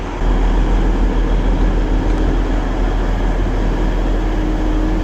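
A steady, continuous low rumble and hiss inside a moving tilting train in Nuremberg, even and loud from start to end with no voices.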